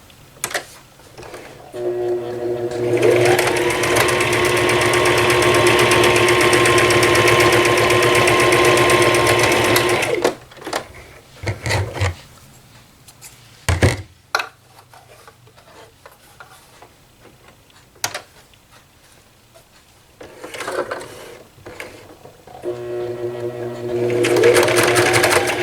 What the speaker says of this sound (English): Doing a little back stitching on my edges just to kind of give them a little bit of